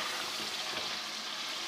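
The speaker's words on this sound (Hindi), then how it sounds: "थोड़ी देर इसको फ्राई करते हैं।" Potatoes frying in spice masala in a pan for Kashmiri dum aloo, a continuous even hiss of sizzling oil, steady and moderately quiet, with no talking.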